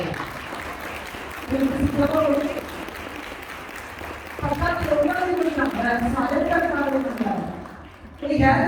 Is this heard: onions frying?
no